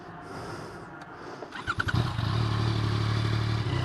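A 2023 Yamaha XSR 900 motorcycle engine cranks with a few sputtering bursts, catches, then settles into a steady close idle rumble, with no voices.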